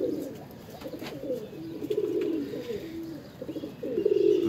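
Ferozpuri pure-blood pigeons coo softly nearby, low rolling coos repeating in overlapping phrases over a faint background hum.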